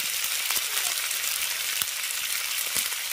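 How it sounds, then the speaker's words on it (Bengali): Spice paste with ground dried chilli frying in a pan while being stirred, a steady loud sizzle with a few faint scrapes of the spoon and no talk. "এবার মশলাটাকে খুব ভালো করে কষিয়ে নেব।"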